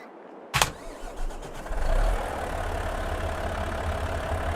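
A Volvo wheel loader in Farming Simulator 22 turns over and fires up with a sharp starter burst, a few coughing revs, then settles into a steady, rumbling idle.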